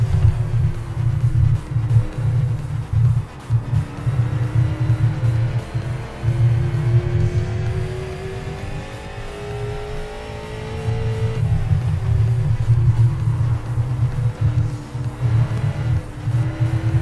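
Street stock race car engines at Thompson Speedway in the iRacing video game, a loud continuous low drone with engine pitch rising and falling through gear changes and corners, other cars audible around it, no voices.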